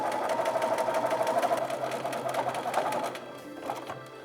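A sewing machine stitches down a 6 mm wide boning channel on corset stays, a steady, close, continuous run of rapid stitching that eases off near the end.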